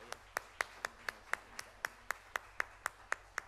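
A church congregation claps in a steady, even rhythm, about four sharp claps per second, sounding faint and distant with no talk over it.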